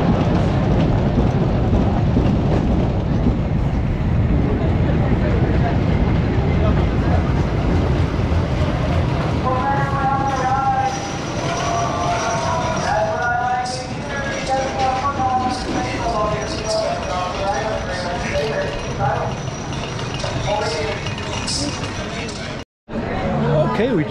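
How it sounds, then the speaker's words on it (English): Riding the Beast, a wooden roller coaster at Kings Island on opening day, with heavy roaring rumble and rushing wind noise throughout, and people screaming and shouting partway through the ride. "here I am at the legendary Beast roller coaster"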